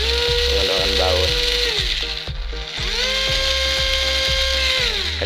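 A hand drill, converted from battery power to mains electric, whines as its motor spins up and winds down in several short bursts, loud and close, while someone talks over it.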